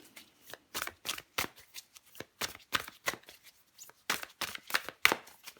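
Tarot cards being handled and shuffled in a run of sharp, riffling bursts with short pauses between them. The sound is close and fairly quiet, with no talking.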